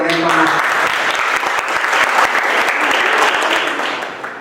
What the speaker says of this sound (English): you clap for Panda sir once again for me